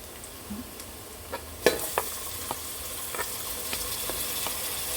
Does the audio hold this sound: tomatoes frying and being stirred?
yes